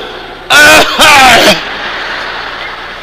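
Two quick, harsh coughs close up, one right after the other, then quiet background.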